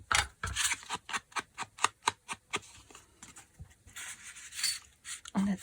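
Scissors snipping through paper for a junk journal page, a rapid run of about a dozen sharp, evenly spaced cuts up close, then a few softer rustles and snips.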